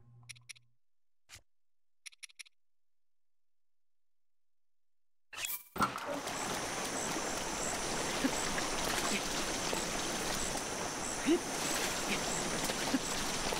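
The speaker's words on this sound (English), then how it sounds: "Can I actually swim up this waterfall?" Waterfall and stream water in Zelda: Breath of the Wild rush in a steady, dense wash that starts abruptly after several seconds of near silence broken by a few faint ticks.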